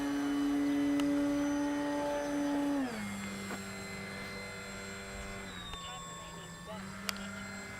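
A Durafly Gloster Gladiator Mk1 RC biplane fighter with 4S electric power flies past, its steady motor whine and drone dropping in pitch partway through as it passes and fades slightly, with faint background noise.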